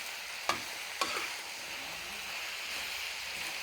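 Cabbage is stir-fried in a pan until wilted, giving a soft continuous sizzle broken by two sharp spatula scrapes near the start.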